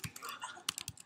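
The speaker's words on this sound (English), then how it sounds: "I'm just getting sick of typing." Fingers tap on a computer keyboard in a quick, uneven run of soft clicks, close and fairly quiet, in a brief burst with no talking.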